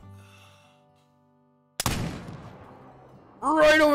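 A single muzzleloader shot rings out in the Call of the Wild hunting game, aimed at a wild boar about 270 yards away. A sharp loud crack is followed by a rumbling decay, with a voice rising at the end.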